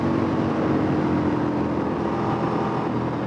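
A Ducati 996 motorcycle engine runs while the bike is ridden, giving a steady, dense drone with wind rush that stays loud and even throughout, with no talk.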